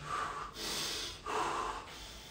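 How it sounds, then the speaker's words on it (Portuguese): Heavy, audible breaths from someone holding a push-up position, roughly three long inhale-exhale cycles, close and fairly soft. "Respirando."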